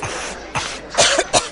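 Chesty coughing in a cold medicine radio advert: a short, phlegmy cough followed by two more harsh bursts, close and loud, with no talking.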